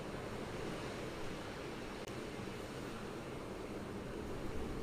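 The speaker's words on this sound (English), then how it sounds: "I was enjoying the sound of the waves as well" Ocean waves wash on the sea shore beside a waterhole, a soft, steady surf rush that stays faint and distant with no voices.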